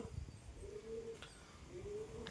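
Pigeons in a loft coo quietly, two drawn-out rolling calls rising out of a soft, low background, fairly near but faint, with no speech.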